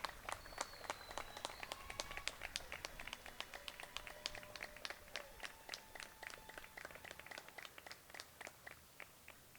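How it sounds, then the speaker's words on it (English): Graduating students at a community school commencement applaud their families, a steady patter of many hands clapping at moderate distance, with faint cheers and scattered voices above it. "thank your family with a round of applause"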